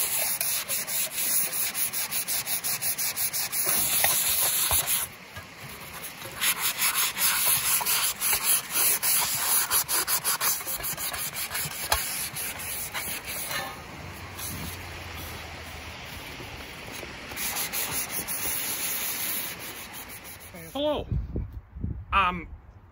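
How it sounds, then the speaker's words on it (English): A fine scrubby pad sands rust off a metal gold pan in steady rubbing strokes, loud and close, with brief pauses, a short break near five seconds and the scraping stopping near the end. "And I got a little scrubby pad, real fine."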